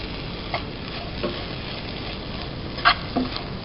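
Grated coconut being stirred into a gram flour mixture for burfi, giving a soft continuous sizzle and scraping with a few faint ticks of the spoon against the pan, no voices.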